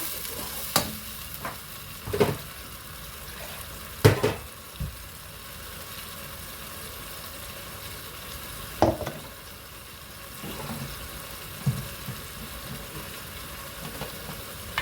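Spinach paste for Punjabi-style palak paneer fries in a pan with a soft continuous sizzle, broken by several sharp clinks and scrapes of a stirring spoon.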